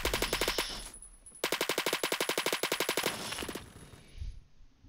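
Fast automatic rifle fire in the Roblox-style shooter Phantom Forces, fired in long rhythmic bursts with a short pause between them, loud and close and with almost no talk over it.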